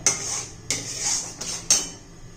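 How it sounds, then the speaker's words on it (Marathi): A spoon stirs beetroot halwa in a pan, making four sharp scraping clinks at a slow, uneven rhythm, close and clear with no voices. "एका ताटाला तूप लावून घेते हे एक सारखं हलवत राहायचंय"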